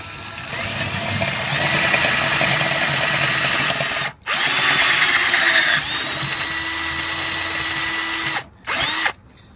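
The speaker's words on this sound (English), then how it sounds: "I'm going to go ahead and drill through on that." An 11/64 metal drill bit bores through a metal ammo box lock, a loud continuous power-drill whine that cuts out briefly twice before starting up again.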